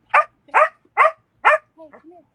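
A female dog gives four sharp, evenly spaced barks close by, then finishes with two soft, rising whimpering whines, with no speech over it.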